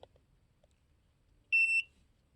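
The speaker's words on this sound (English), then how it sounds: "when you put this tip near a live wire, it beeps and it lights up" A voltage detector pen gives a single short, high-pitched electronic beep lasting about a third of a second, clear and close after a near-silent pause.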